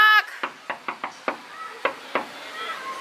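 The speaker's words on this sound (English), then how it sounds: "Can I get a little knock knock?" Knocking on the door of a room at a secluded beach getaway rental: seven or eight sharp raps in an uneven rhythm, close and fairly loud, with a brief voice at the start.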